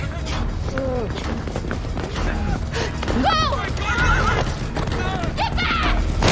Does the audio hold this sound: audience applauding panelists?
no